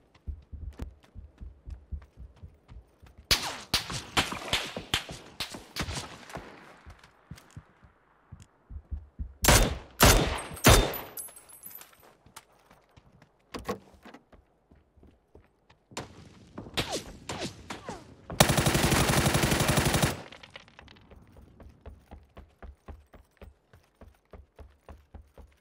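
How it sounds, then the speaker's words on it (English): Gunshots in the battle royale game PUBG, a few sharp loud cracks and short bursts separated by quiet gaps, with one longer, denser blast of noise near the end. "Why did he shoot again?"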